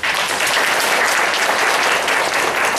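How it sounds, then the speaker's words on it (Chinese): A church congregation claps together during a Taiwanese-language service, loud continuous applause from many hands with no pause, heard alone without speech. "拍手。"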